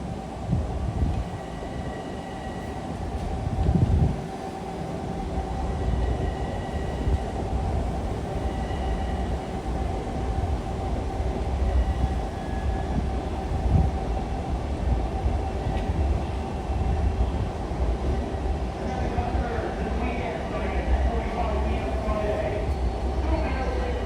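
A Long Island Rail Road train at Jamaica station during evening rush hour gives a steady, loud rumble throughout, with faint station voices mixed in.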